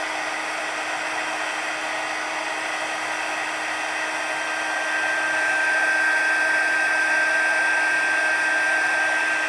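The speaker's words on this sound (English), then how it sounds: "just hold your heat tool still and then move it along, and you can see it start to change" Heat tool blowing hot air to melt embossing powder on paper, a steady loud whirring hiss with a high whine, continuous and close, growing slightly louder toward the end.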